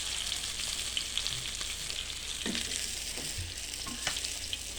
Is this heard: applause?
no